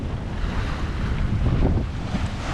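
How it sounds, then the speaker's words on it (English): Sailboat heading straight into the wind on a river, with steady gusting wind buffeting the microphone over a continuous wash of water along the hull, fairly loud and unbroken. "Going pretty straight into the wind at the moment."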